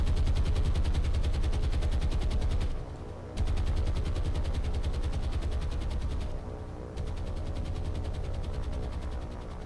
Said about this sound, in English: I literally just got strafed by biplanes.